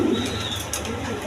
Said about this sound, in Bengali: আপনার ইন্ডিয়ান বোম্বাই কবুতর